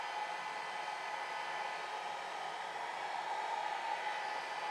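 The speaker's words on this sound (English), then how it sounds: "I'm never pointing my dryer towards the alcohol, it's always pointing outside" A hair dryer blows steadily while drying alcohol inks for painting roses, a continuous, even, close whoosh with no breaks and no voices.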